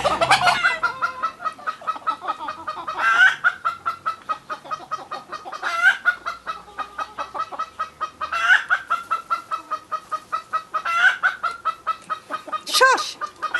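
A green jungle fowl clucks close by in a long run of rhythmic, closely spaced calls. Sharper squawks break in every few seconds, and nothing else competes with the calls.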